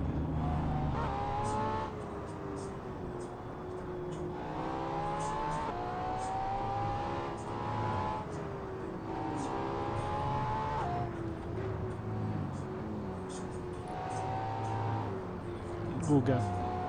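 Race cars in the Assetto Corsa driving game, played in VR, rev and shift repeatedly, their engine tones climbing and dropping in waves with faint tire noise while voices talk over them.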